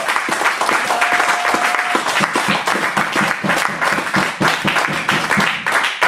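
A church congregation applauds and cheers loudly for the Lord during a French-language worship service: a dense, steady wall of clapping with crowd noise that lasts throughout.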